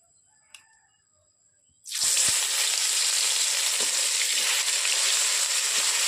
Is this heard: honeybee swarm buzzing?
no